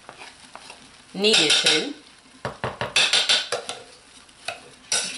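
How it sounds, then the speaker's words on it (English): Lard and lye soap mixture being stirred in a pot, with a series of scraping, clinking strokes in bursts, close and fairly loud, and a brief voice in between. "One last stir around the edge."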